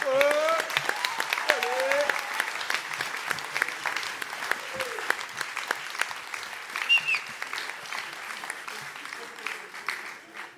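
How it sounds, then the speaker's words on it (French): Sustained applause from an audience at the SHAKA Festival 2025 grand opening, steady clapping filling the room, with some voices and cheers mixed in throughout. "messieurs, dames, on les applaudit bien fort"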